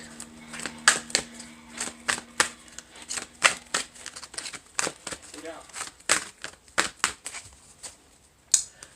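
Tarot cards are shuffled in quick, crisp riffling bursts, a rapid series of sharp flicks and snaps close by, with a faint low hum early on.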